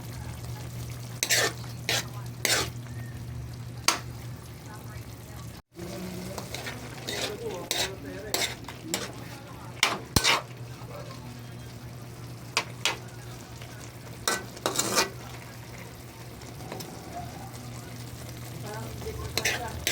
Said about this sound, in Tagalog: Luto-lutoy muna natin yung gulay natin mga lods. At huwag din natin i-overcook.